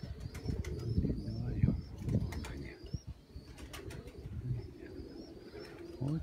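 Pigeons outdoors at a pigeon loft, soft wing flaps and low cooing mixed with occasional chirps from small birds, all fairly faint under steady background noise.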